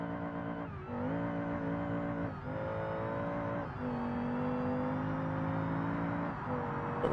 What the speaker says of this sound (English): A little bit of throttle, a little bit of throttle.